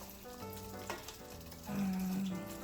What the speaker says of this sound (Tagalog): I am cooking some beef